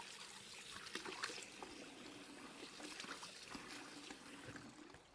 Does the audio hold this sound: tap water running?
yes